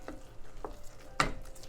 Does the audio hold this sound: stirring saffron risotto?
yes